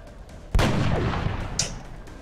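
A single loud, sharp gunshot from the XCOM video game, an abrupt crack followed by a booming tail and faint rumble, with a brief higher clink shortly after.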